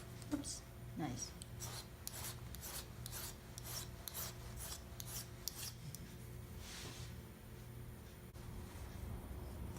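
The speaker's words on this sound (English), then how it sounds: "You're going to file everything down, and this will take a little bit of time." A metal file rasps back and forth on a wire word ID bracelet in a steady series of short, scratchy strokes at close range, fairly quiet, with a few soft handling knocks early on.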